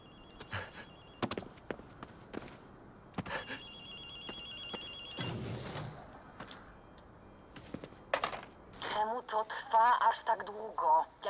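A telephone rings in bursts of bright trilling rings inside an apartment block in the video game Ghostwire: Tokyo, mixed with footsteps and game sounds, followed by voices talking.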